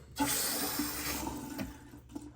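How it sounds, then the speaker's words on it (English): Water gushes from a valve opened on a tube of a water softener and filtration setup, pouring into a floor drain as a steady, fairly loud rush that eases slightly toward the end. "I'm going to open this valve, which is going to let the water drain from that tube into our drain right there."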